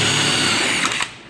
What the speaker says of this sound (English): putting holes into something requires a drill